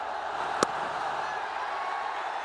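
A cricket stadium crowd cheers a batsman's fifty in a Pakistan Super League match, a steady broad roar throughout with one sharp burst near the start.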